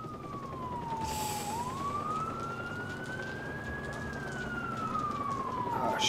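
Police siren wailing in the video game Watch Dogs during a car getaway, a single rising and falling tone sweeping steadily over low engine and road rumble, moderately close.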